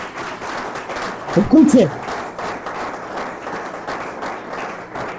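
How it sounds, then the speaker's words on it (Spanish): A church congregation claps in a steady, rolling burst of applause, with a voice speaking over it and a brief louder swell near the middle. "Un aplauso bien fuerte al Señor."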